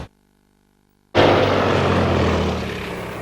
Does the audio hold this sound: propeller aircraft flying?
yes